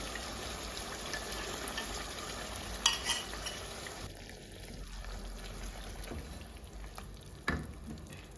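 Chicken and potato curry with yogurt is stirred in a pot over high flame; a faint, steady sizzle runs throughout, broken by a couple of sharper spoon scrapes, with no voices.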